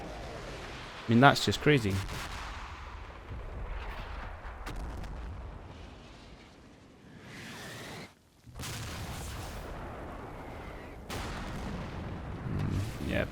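Mortar rounds land in Combat Mission: Battle for Normandy, with several booming impacts and crackling blasts rolling through, a short lull, then more rumble while someone talks over them.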